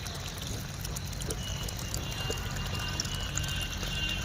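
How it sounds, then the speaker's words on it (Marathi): Steady splashing and trickling water runs throughout as papaya plants are watered, like a hose or can watering the ground, with soft rustling and faint distant voices. "पपईच्या झाडाला पाणी देतोय"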